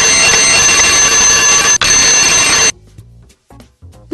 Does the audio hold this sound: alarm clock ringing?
yes